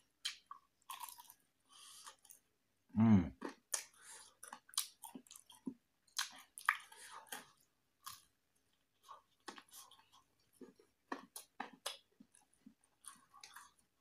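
Someone eating chicken satay, boneless meat skewers, with crisp bites and a steady run of close, moist chewing and crunching, one louder thump partway through, no talking.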